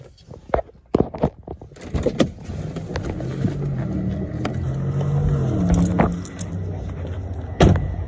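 Car door being opened as a person steps out, with sharp latch clicks and thumps at the start followed by a steady low rumble of a running vehicle and outdoor ambience, and another knock near the end.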